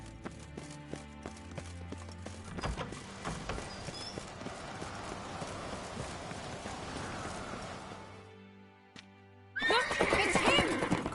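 A horse whinnies amid hoofbeats and a busy Witcher 3 game soundscape, with rhythmic clip-clop and music underneath, ending in a brief lull before a louder burst.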